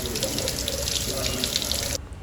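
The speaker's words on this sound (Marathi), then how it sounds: "ती मी आता पाण्यात धुवून घेणार आहे." Tap water runs steadily into a sink while chopped broccoli is rinsed, a close, continuous rushing splash that stops abruptly near the end.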